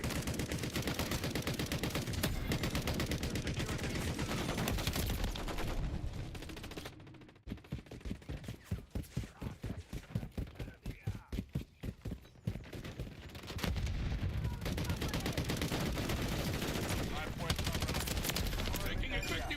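Sustained automatic gunfire from a Call of Duty Modern Warfare III multiplayer match, dense and loud, breaking into a run of distinct rapid shots in the middle before the heavy firing resumes.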